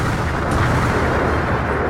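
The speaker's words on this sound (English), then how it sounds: "Explosions go off one after another." Explosions rumble through a steampunk London scene in the game Code: Realize, a dense, loud, continuous roar of blasts with a sharper burst near the start.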